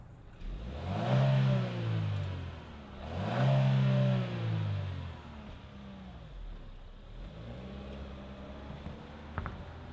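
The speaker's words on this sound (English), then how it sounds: "let's fire it up and see this Terrain Denali roll." A 2026 GMC Terrain Denali engine fires up and revs, with two strong swelling revs that rise and fall, then a softer third rev settling back toward idle, close and loud.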